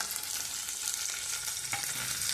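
Onions sautéing in oil in a pan for a makhani sauce for chicken tikka masala, a soft, even sizzle with a faint stirring scrape, fairly quiet and close, no voices.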